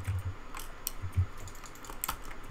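Quick bursts of keystrokes on a computer keyboard, clustered taps with short pauses between them, close and fairly quiet, with no one speaking.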